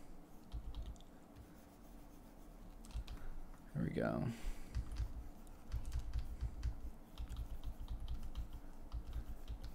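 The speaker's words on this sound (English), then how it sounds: "You can hear me jamming on my bracket keys." Keyboard bracket keys are tapped rapidly and repeatedly during digital painting, a steady close clatter of clicks, with a short spoken remark partway through.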